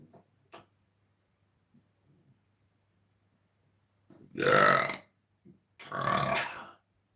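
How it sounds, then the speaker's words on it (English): Two loud, drawn-out burps, each about a second long, separated by a short pause, preceded by faint small clicks and quiet background. "when I burp"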